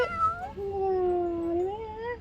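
A sick kitten gives a drawn-out, wavering meow, loud and close, rising then sliding down over about two seconds against a low background rumble.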